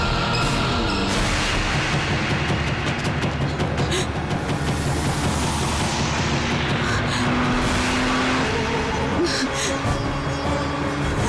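A car is driven fast, its engine roaring in a steady, loud rush that stays continuous throughout, with sharp bangs and scattered impacts layered over it and a brief voice at the start.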